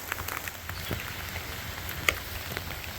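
Steady rain falls outdoors, a soft continuous patter with scattered sharper drops, fairly quiet and even throughout with no voices.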